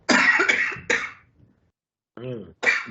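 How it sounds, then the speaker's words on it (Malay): A person coughs a couple of times in quick bursts, then a short pause before a brief voiced sound and another cough, close and fairly loud. "Maaf, batuk."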